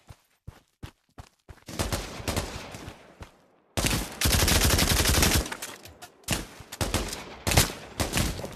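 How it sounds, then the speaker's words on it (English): M3 grease gun fired in the video game Pavlov: a few isolated single shots first, then long sustained bursts of loud, close automatic fire with brief pauses and a final string of short bursts. "Grease gun."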